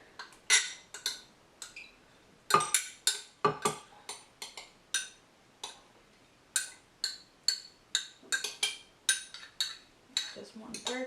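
A metal spoon scraping and tapping thick vanilla ice cream out of a Ninja Foodi blender container: repeated short clinks and scrapes in an irregular rhythm, close and fairly quiet, with brief pauses between strokes.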